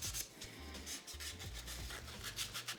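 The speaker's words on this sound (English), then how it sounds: "I'm just going to go around and bevel the edges now." Rhythmic rasping strokes of an edge beveler working the edges of a leather money-flap card holder, short repeated scrapes at close range with no talking.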